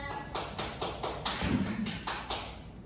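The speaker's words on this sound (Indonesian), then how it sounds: "Ya, berikan aplaus untuk Mbak Rusdiana." A classroom group applauds a presenter during a microteaching lesson, clapping about nine times in an even, synchronized rhythm. The claps are close and brief.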